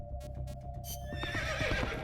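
A horse in the video game Metal Gear Solid: Peace Walker whinnies loudly after a few short clicks, the neigh rising and wavering as it fades into game ambience, with no talking.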